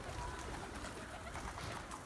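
Soft cooing of tumbler pigeons blends into a busy, noisy background of fluttering and rustling, faint and continuous throughout.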